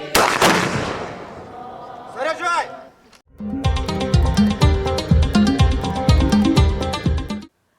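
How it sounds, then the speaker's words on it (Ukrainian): A ceremonial rifle volley salute fired with authentic weapons by historical club members in division uniforms, heard as a loud close burst at the start, then a shouted command and a dense run of sharp, echoing reports. "Учасники Стрийського історичного клубу Молоді резерви в уніформі дивізійників салютували з автентичної зброї."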